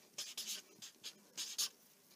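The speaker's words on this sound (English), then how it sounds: "So again, write the same numbers," Pen or marker strokes writing numbers during a math lesson on the associative property, a series of short scratchy bursts with small pauses between them, close and fairly quiet.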